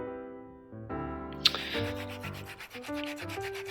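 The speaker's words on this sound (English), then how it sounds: "once you rub it into the carpet" Hands rubbing Stainmaster pet stain remover into white carpet, a close, continuous scrubbing rasp over a tonal, musical background.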